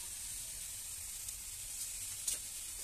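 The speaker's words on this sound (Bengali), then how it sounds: "মা এখন কড়াইতে ভাত দিয়ে দিচ্ছে, ফ্রাই করবে" Rice sizzles in a hot kadai for egg and vegetable fried rice, a soft, steady frying hiss with a couple of faint stirring ticks, no voices.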